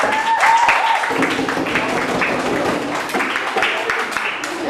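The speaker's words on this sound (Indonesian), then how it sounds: "Tepuk tangan." A classroom of students applauds after top scorers are announced. Dense clapping continues for several seconds and stays steady, mixed with voices and chatter from the room.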